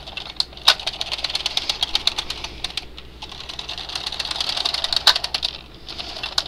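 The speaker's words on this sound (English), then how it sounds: "I will just knit stockinette stitch until you get it the length you want." Bond knitting machine working stockinette stitch, its carriage swept back and forth in rapid clacking, rattling passes with brief pauses between rows, close and fairly loud with no talking.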